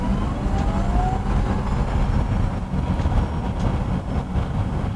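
A Porsche Mission E Cross Turismo electric concept car drives by with a steady, loud rolling rumble and a thin electric whine that climbs briefly, continuous throughout with no voices.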